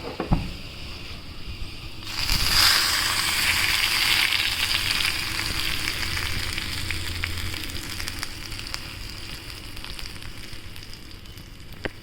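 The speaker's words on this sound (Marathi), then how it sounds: "आता हे तडका कढीमध्ये टाकायचा आहे." A tadka of fried chillies poured into yogurt kadhi sets off a sudden loud sizzle that hisses and crackles steadily, then slowly fades while still frying.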